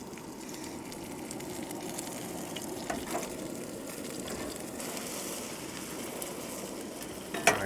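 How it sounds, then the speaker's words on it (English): Butter with a splash of olive oil sizzles steadily in a nonstick pan at a remote Arizona campsite, a close, even frying hiss that carries on throughout, ending in a quick clatter. "Lop off a bit of butter into a nonstick pan."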